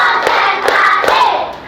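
A group claps hands together in counted claps, a few sharp, loud, close hand claps over a busy background of children's voices and crowd noise.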